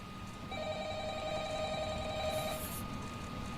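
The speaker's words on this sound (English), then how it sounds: "And phone call." A telephone rings in the FNAF horror video game, a steady electronic bell tone sounding continuously for about two seconds over a low dark ambient hum.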